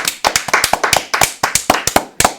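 Sparse clapping from a small group at the close of the DBD Sports Show, with sharp, uneven claps in a loose rhythm, fairly close and loud, with no talking.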